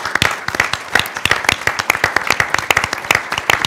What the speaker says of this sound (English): he deserves a round of applause for the work that he did